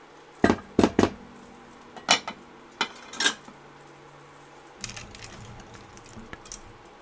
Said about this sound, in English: Now we're just going to take that spoon out of there,